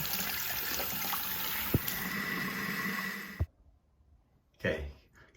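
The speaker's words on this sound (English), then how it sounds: "Just gonna rinse this diverter with some warm water." Warm water runs from a shower tap over a removed shower diverter being rinsed, a steady close rush and splatter for about three seconds, then near silence and a short final burst of flow.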